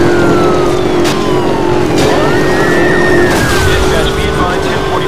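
A Jaguar racing in Need for Speed Most Wanted (2012) smashes into a police roadblock: a steady loud engine roar with wailing police sirens throughout, broken by sharp crashing bursts, especially one heavy impact near the end.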